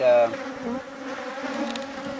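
Honeybees hum around an open hive during an inspection, a continuous close buzz with a louder burst at the start and fluctuating tones as bees fly near.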